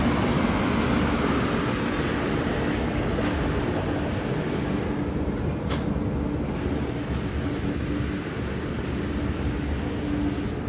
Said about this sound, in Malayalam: അങ്ങനെ തിരുക്കുറൽ എക്സ്പ്രസിനെ ഓവർടേക്ക് ചെയ്യുകയാണ്.